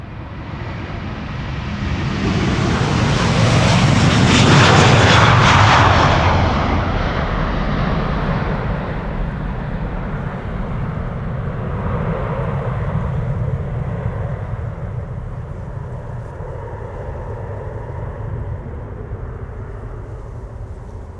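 A twelve-year-old Airbus A330-300 departs Schiphol's Polderbaan runway in rain showers, its engine roar swelling to a loud peak early on, then settling into a long, gradually fading rumble as it climbs away.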